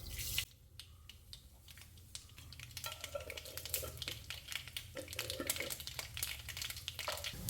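Mustard seeds fry in hot coconut oil in a pan, a faint sizzle rising into rapid crackling pops that grow denser and louder toward the end.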